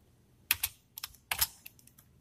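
Quick bursts of keystrokes on a computer keyboard while entering C++ code, clustered taps with short pauses between them, close and clear with no talking.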